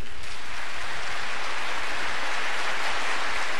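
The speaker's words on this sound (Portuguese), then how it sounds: "Eu queria que você aplaudisse esse amor." A church congregation applauding during Mass, a dense, steady wash of clapping from many hands that fills the space evenly and continues without a break, with no voices standing out.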